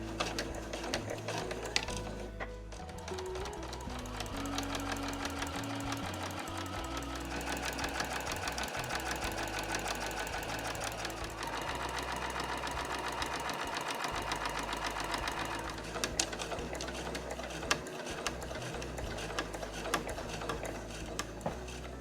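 A sewing machine stitches along one side of a fabric strap folded in four for a reversible drawstring tote, running in steady mechanical bursts of needle clatter with brief pauses and no talking.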